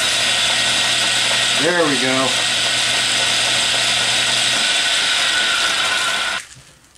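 A steady, loud mechanical whirring and clicking of an Atlas lathe's gear train runs continuously, with a slightly tight gear; a brief voice speaks over it, and the noise winds down and stops near the end.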